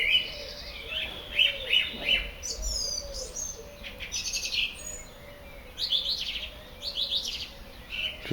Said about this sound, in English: Just listening to that bird song there.